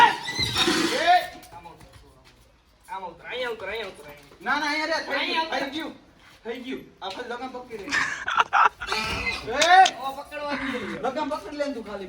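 A mare neighs and whinnies repeatedly while being tied up, loud and close, in several separate bursts with people talking and laughing between them.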